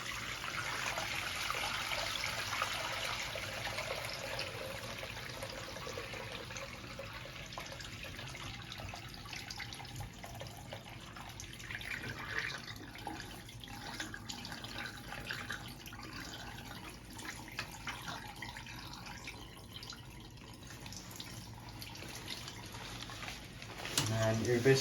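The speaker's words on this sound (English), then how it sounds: "That way you're able to get the water out without having your clothes fall out." Water drains and trickles steadily out of a laundry bag held upside down, a continuous soft hiss and splash running throughout with slight swells.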